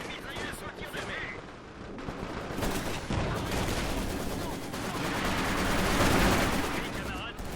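Dense machine gun fire and battle noise from the video game Company of Heroes 2, sustained bursts and distant booms rolling continuously, with voices talking over the din.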